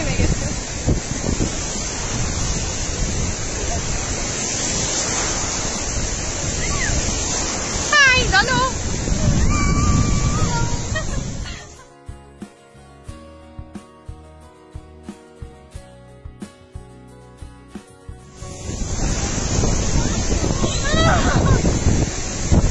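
Sea waves and gusty wind roar at Guliakhali Sea Beach in Chittagong, loud and buffeting the microphone, then drop to a quieter lull with faint ticking before the roar returns, with people talking over it.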